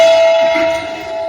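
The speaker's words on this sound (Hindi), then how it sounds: "भैरवनाथ की घंटा की ध्वनि आपने सुन लिया" A temple bell rung at the entrance of the Siyana Bhairav temple in Rajasthan rings out in one loud, bright strike with a long, steady metallic hum that slowly fades, with no voices.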